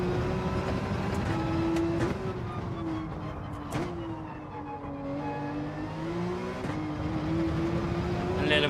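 Porsche race car engine in Gran Turismo 7 at Fuji, holding a steady loud drone with rising and falling pitch as it revs through gears, with a voice talking over it.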